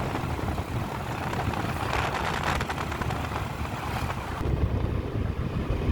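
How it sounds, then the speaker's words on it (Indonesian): Strong coastal wind buffets the microphone continuously on a hilly road overlooking Mandeh island, a loud broadband roar with gusts and a faint engine rumble underneath, no talking. "Angin kencang sekali"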